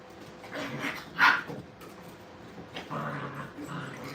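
Puppies and dogs in a training kennel bark and whimper, with one short bright yip standing out and softer, scattered vocal sounds around it at moderate distance.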